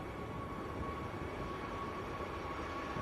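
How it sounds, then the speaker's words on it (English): A Ryanair airliner taxis at Manchester airport, a steady low engine rumble with a faint whine, distant and continuous throughout. "Another Ryanair taxiing out as well."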